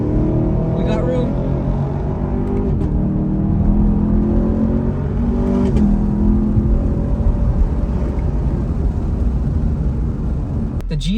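A Camaro SS 1LE's engine pulls hard on a highway, heard from inside the cabin, with repeated rising engine tones climbing through the gears over a constant road roar.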